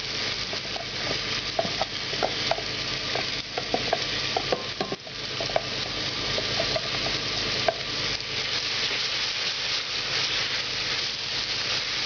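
Onion rings frying over low heat in a pan for a chicken and potato curry, a steady loud sizzle and hiss broken by light scraping and clicking as they are stirred, with no talking.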